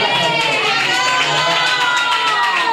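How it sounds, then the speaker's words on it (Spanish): A studio audience on a Spanish television show bursts into applause and cheering, a dense, loud, steady roar of clapping with excited shouted voices woven through it, holding unbroken for nearly three seconds. "Un aplauso"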